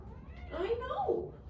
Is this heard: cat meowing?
yes